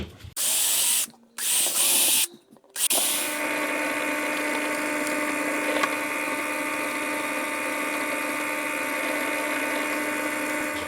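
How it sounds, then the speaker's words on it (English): A hand drill bores small pilot holes through a template taped onto a workpiece, with several short loud whirring bursts followed by a steady, fainter mechanical hum from a running machine. "drill the holes through, and then I can drill them out on the pillar drill"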